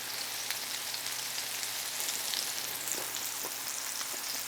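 Mahi mahi fillets pan-searing, a soft, even hiss of sizzling fat like light rain, with a few faint pops, steady throughout.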